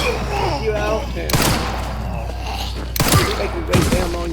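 Gunfire in the video game Resident Evil 9 Requiem: two or three sharp shots stand out over a steady background of game music and ambience, with a grunt-like sound among them.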